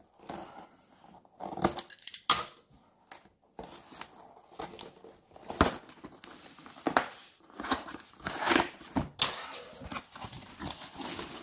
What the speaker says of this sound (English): it's got this little seal we got to cut.